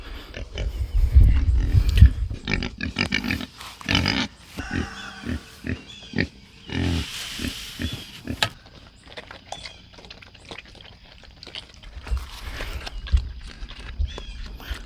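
Pigs grunt and snuffle close by on a farm that also keeps goats, with irregular bursts of rooting and shuffling and a couple of louder snorts.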